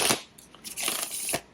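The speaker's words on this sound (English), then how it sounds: "I love this deck. It shuffles so nice." A sturdy, flexible tarot card deck is shuffled close up, producing quick riffling bursts of crisp card flutter, with a short pause between passes.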